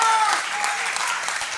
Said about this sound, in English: Let's give them a round of applause for those first 3 questions.